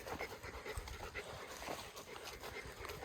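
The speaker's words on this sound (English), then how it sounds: "That's Jazz breathing, not me" A dog panting steadily on a wooded hiking trail after a steep climb, quick rhythmic breaths close by and continuous for several seconds, fairly quiet, with no talking.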